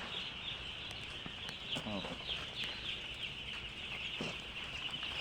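Young chicks on a poultry farm peep and cluck in a busy, continuous chorus, with a bright high chirping bed and occasional nearer calls, while someone talks intermittently over them.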